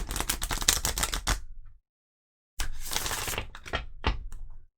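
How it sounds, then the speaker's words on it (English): Tarot cards riffle in two quick bursts of rapid flapping clicks, separated by a short silence, close and crisp. "Give it one good shuffle and then we'll get on with this."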